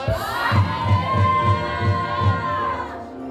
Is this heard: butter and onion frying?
no